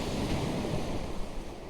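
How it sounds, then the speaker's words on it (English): Small waves wash steadily onto a little beach at Portals Nous, Mallorca, a continuous broad rushing surf with some wind noise, close and fairly loud, with no voices. "this is the little beach, so you can see that there are some waves"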